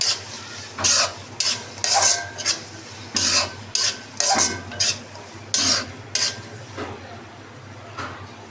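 Garlic frying in a pan, for a dried-fish bhuna, is stirred with a utensil: about a dozen rhythmic scraping strokes, close and fairly loud, over a steady low sizzle.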